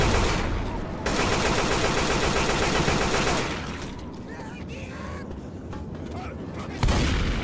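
Loud, sustained automatic gunfire from the Left 4 Dead 2 video game roars in dense bursts, breaks off briefly, then resumes, with in-game character voices mixed underneath.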